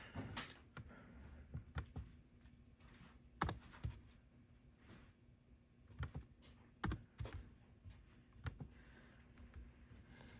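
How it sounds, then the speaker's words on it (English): Someone types a serial number on a computer keyboard while setting up a Sound Stream HDHU14si Harley-Davidson plug-and-play radio; close, irregular clicks and taps come in quick bursts with short pauses, over a faint steady hum and no talking. "What's nice about typing in the serial number is you don't have to guess at anything."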